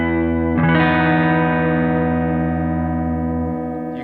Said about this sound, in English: I'm going to turn the rate and depth up a little bit